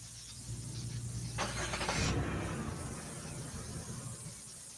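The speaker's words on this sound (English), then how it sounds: "I hear some type of mechanical failure coming from cruiser number 111." Police cruiser car with a mechanical failure, a mid-range engine hum joined by a rising squealing, grinding burst at the midpoint before settling into a rough running drone.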